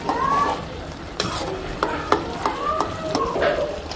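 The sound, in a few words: potatoes frying and being stirred with shidol (fermented dried fish)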